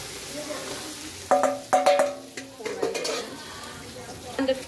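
Hot oil sizzles in a pot while a spoon stirs and clanks against the metal, a few loud knocks over a constant background hiss.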